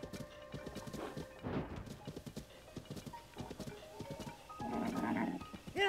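Steady clip-clop of horse hooves in The Legend of Zelda: Tears of the Kingdom, repeating throughout at moderate volume, with a louder burst of game sound toward the end and no talk.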